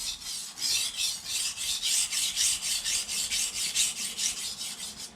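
Steady rhythmic rasping strokes as a dull kitchen knife is drawn back and forth across a Sharpal dual grit diamond stone, close and clear, about a dozen even passes with no talking.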